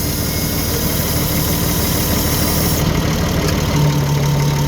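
A wheel loader's diesel engine idles without being revved, a loud, steady, rumbling drone with a constant vibrating texture throughout.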